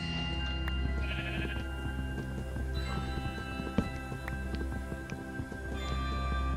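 Sheep bleat in a video game, a few plaintive calls mixed with light clip-clop footsteps over a steady music and ambient game bed, with no talking.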